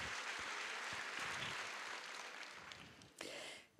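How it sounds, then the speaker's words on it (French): A book-talk audience at a literary meeting in France gives a round of applause, a dense wash of clapping heard at moderate distance that gradually thins and fades out, with a short burst near the end. "ça mérite un grand merci et des applaudissements"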